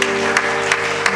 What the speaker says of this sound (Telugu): ఒక్కసారి గట్టిగా వారికి చప్పట్లు కొడదాం.